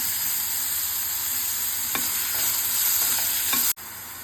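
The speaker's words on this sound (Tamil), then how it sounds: "இதில் இதாங்க மெயின் இன்க்ரீடியண்ட், புடலங்காய் விதை. இதை வறுத்துக்கலாம்." Bottle gourd seeds fry in a pan for a Podalangai seed pachadi, giving a steady loud broadband sizzle with a few sharp scraping stirs near the end and a brief dropout before the hiss resumes.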